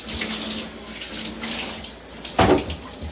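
Tap water runs steadily into a sink, a continuous rushing splash with a sharper, louder burst of flow near the end, heard alone without talk.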